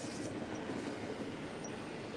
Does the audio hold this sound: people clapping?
no